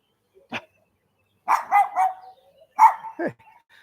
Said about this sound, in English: Hey, dogs here.